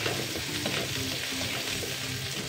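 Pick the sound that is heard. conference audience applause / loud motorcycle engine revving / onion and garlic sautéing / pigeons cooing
onion and garlic sautéing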